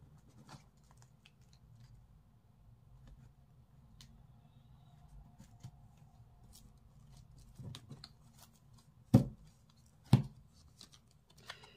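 Tarot cards being cut and drawn at a reading table: soft shuffling and handling rustle throughout, with two sharp close slaps of cards set down near the end, no voice.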